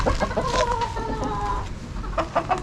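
Chickens in a coop cluck steadily and close by, several birds overlapping in short repeated calls and drawn-out tonal notes over constant background noise.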